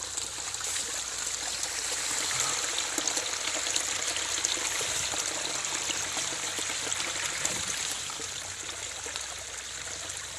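Steady rushing and trickling irrigation water flowing into a rice field, continuous and fairly close, with no talking over it.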